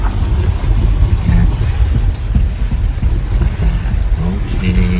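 A Jaguar I-Pace electric car drives through floodwater, giving a steady loud low rumble of churning, splashing water and road noise for the whole stretch, with no speech.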